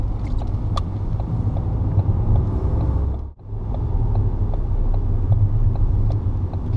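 Interior engine rumble of a manual car moving off at a busy roundabout, a steady low drone that dips abruptly for a moment at a gear change, then resumes, close and continuous with no talking.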